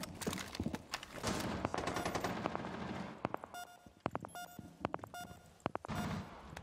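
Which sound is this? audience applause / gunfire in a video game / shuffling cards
gunfire in a video game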